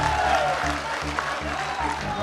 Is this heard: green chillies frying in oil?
no